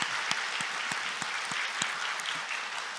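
A church congregation applauds together during an Easter service after a choir's song, a steady wash of many hands clapping with a few sharper claps standing out, continuous for the whole stretch without any talk.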